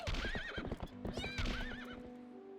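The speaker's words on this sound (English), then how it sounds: "Horse call, go over here to the Great Bridge." A horse in the video game Twilight Princess clip-clops with quick hoofbeats and lets out two warbling neighs, close and loud, over a low background game tone.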